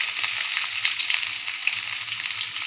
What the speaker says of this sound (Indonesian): Lepas tu kita masukkan bawang